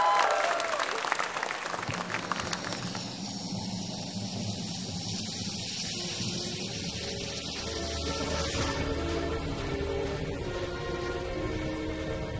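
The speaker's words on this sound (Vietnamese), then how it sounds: "Hãy cùng dành một tràng pháo tay cho nhóm nhảy MTE." A talent-show audience breaks into loud applause to welcome dance group MTE, a dense burst of clapping that fades after a few seconds into a quieter hall.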